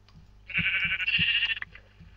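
One drawn-out, steady sheep bleat from a video game, with soft rhythmic thumps beneath it and no talking.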